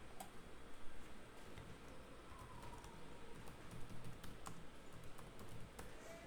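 A name is typed on a computer keyboard, heard as a run of light, quick key taps over a steady low room hum, faint and close.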